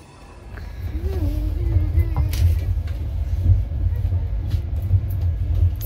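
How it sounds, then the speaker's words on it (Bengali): Ashram Express train pulling out of Delhi station, heard as a deep, steady rumble that builds over the first second and holds, with faint clanks and a brief tonal whine near the start, without clear talk. "তো ট্রেন এখন ছেড়ে দিয়েছে দিল্লি স্টেশন থেকে"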